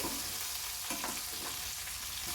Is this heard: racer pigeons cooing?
no